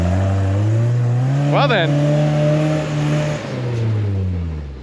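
An off-road vehicle's engine revs steadily while its tires spin and churn through snow on a hill, a sustained close drone with a rising whine midway, and people talk over it.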